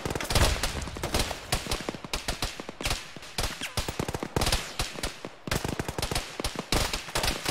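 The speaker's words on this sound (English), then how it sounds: "I think we're getting shot at" Heavy automatic gunfire in the military shooter ArmA, played with the ShackTac group: dense, rapid bursts of shots that crackle continuously for several seconds with only brief gaps, close and loud, with no voices.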